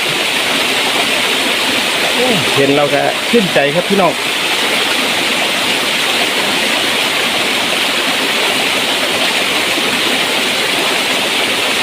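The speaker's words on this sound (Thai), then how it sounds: "มื้อนี้พาพี่น้องมาเล่นน้ำตกนะพี่น้องเนาะ น้ำตกน้อยๆครับ" A small forest waterfall rushes in a steady, loud, unbroken roar, with someone speaking briefly over the water partway through.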